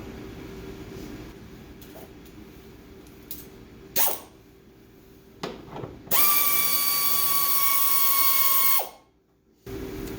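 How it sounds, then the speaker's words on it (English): A power tool whirs steadily for about three seconds while loosening a 10mm bolt on the air intake of a 2008 Dodge Charger SXT. Quiet clicks and handling taps come before it, and it stops abruptly into silence. "You'll need to loosen one 10mm bolt right here to get the intake out."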